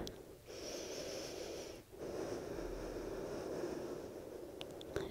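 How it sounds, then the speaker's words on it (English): Deep, steady breathing during a yoga core exercise, a long breathy inhale and exhale with a brief pause between, close and moderately quiet, with no talking. "Big breath here."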